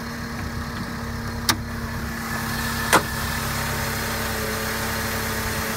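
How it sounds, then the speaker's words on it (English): A 2004 Mercedes CLK 200 engine idles with a steady, low, even hum and constant vibration, broken by two brief sharp clicks. "Here's the engine."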